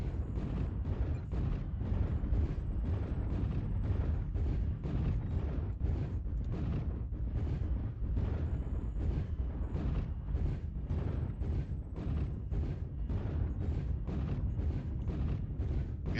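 Artillery strike hitting in MechWarrior Online, a rapid barrage of booming explosions and rumbling impacts repeating for many seconds at a steady, fairly loud level.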